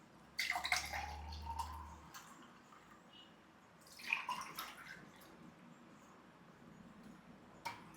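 Spiced buttermilk with shallots and sliced green chilli poured out, a couple of soft splashing, gurgling bursts of liquid separated by a quiet pause, fairly faint and close.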